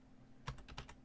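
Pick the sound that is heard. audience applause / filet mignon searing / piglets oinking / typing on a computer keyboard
typing on a computer keyboard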